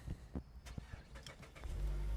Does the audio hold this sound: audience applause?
no